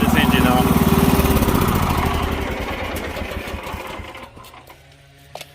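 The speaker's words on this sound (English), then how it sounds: "Let me shut this engine off" The engine of a Wood-Mizer LX55 sawmill runs with a steady, rattling idle, then is shut off and gradually winds down and fades out.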